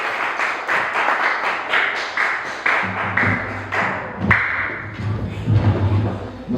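Church congregation at a Pentecostal Sunday prayer service clapping steadily, with sharp overlapping claps that run for several seconds and a low rhythmic beat joining partway through.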